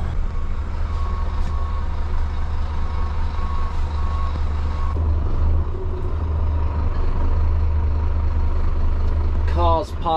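A large vehicle turning around on a site sounds steady reversing beeps over a loud, low idling engine rumble and wind noise during stormy weather, with a brief burst of louder beeping near the end.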